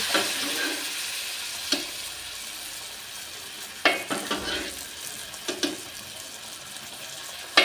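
Moong dal is poured into a hot tempering and stirred, a soft steady sizzle running underneath, with a few sharper clinks and scrapes of the spoon against the pot coming through at intervals.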